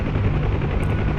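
Huey UH-1 helicopter rotor in the DCS video game churns with a loud, steady low thumping drone, close and unbroken throughout.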